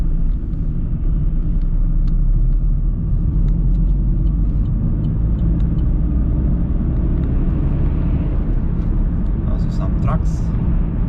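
Heavy steady road rumble fills the cabin while driving a busy Romanian county road between Mihăilești and Pitești, a continuous low drone of car and traffic noise with faint higher clatter near the end.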